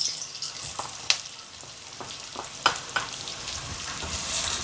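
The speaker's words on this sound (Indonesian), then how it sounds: "Tumis sebentar bawang merahnya." Shallots sautéing briefly in oil in a pan, a bright crackling sizzle punctuated by several sharp spatula scrapes and taps, the frying growing slightly louder toward the end, no speech.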